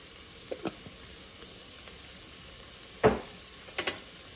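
Finely chopped seasoning and thyme for Guyanese-style fried rice sizzle softly in a pan, a low steady hiss broken by a few sharp clinks and scrapes as they are stirred.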